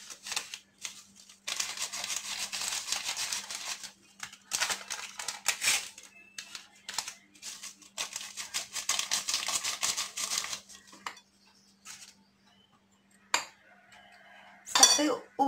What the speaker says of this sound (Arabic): دابا غادي نكمل غير بالطراب اليدوي